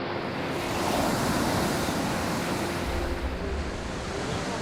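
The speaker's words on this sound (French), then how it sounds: "Poussés par un vent de 160 km/h, des vagues de 3 mètres déferlent sur la côte." Storm waves driven by roughly 160 km/h wind break heavily on the coast, three-metre surf roaring in a steady, loud wash with buffeting wind noise throughout and no voices.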